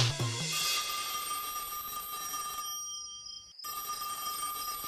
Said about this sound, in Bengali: একে ফোনটা ধরছে না কেন?